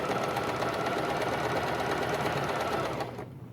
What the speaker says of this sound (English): going to zigzag stitch all the way around that cuff that you just folded back